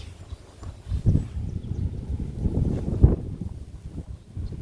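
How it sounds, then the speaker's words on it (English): Wind buffets the microphone in low, gusty rumbles, swelling and fading with a couple of stronger gusts; no voices. "It's getting windy right now here too."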